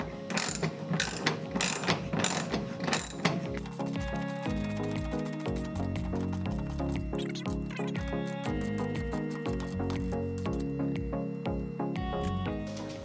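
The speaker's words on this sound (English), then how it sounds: "So we're gonna go ahead and ratchet it down and get it nice and tight." A ratchet strap or ratchet is cranked repeatedly to tighten a hammock anchor mount inside a school bus conversion, giving a steady run of close, loud metallic clicks with no talk.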